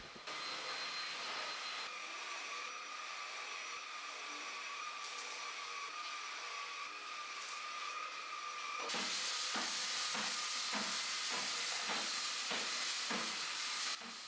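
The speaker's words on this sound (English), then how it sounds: "I'll just pick it up and vacuum under it." A household vacuum cleaner runs beneath a lifted playmat with a loud, steady whining roar. It grows harsher partway through, and rhythmic bumps and scrapes mark the nozzle pushing back and forth across the floor.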